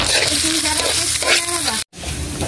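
Ground pork giniling sizzles loudly and continuously in a hot pan, with stirring scrapes over the frying and a brief cut near the end.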